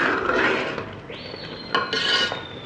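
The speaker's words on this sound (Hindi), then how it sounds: "चम्मच हमने मुसलसल हिलाते रहना है" A spoon scrapes and rubs steadily around a pot of degi kheer, giving a raspy metallic stirring sound up close, with a few brighter clinks against the pot's side.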